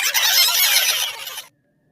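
A witch's shrill scream from a Hindi horror tale rings out loud and harsh for about a second and a half, then cuts off abruptly into silence.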